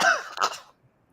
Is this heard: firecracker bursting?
no